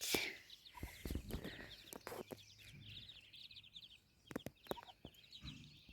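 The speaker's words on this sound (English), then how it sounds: "I figured you guys might like to see some little ducklings." Muscovy ducklings, a brood of twelve with their year-old mother, peep in high, rapid chirps outdoors, with some low clucking and occasional sharp knocks close by.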